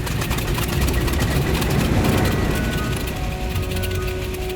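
A vintage aircraft engine runs with a loud, steady, rumbling drone that stays close and continuous throughout.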